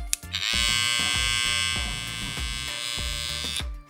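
An electric hair clipper fitted with Babyliss blades hums steadily at close range with a bright buzzing whine, running continuously with slight rattling variations.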